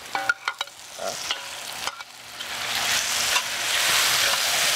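Onions and garlic sautéing in a pan as tomatoes go in, first a few clattering stirs of a utensil, then a steady, building sizzle close up with no talk.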